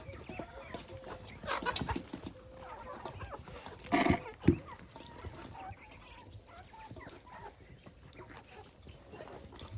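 Chickens cluck and roosters call outdoors, a busy farmyard din with one louder squawk burst midway.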